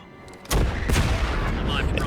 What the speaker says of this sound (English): And the explosions are just like so good.